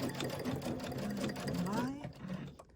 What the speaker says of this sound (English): when I stop sewing, it's going to plant the needle and raise the foot automatically